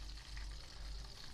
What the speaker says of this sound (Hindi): हमने अब इसी में प्याज शिमला मिर्च थोड़ी सी फ्राई करनी है नॉर्मल आंच पे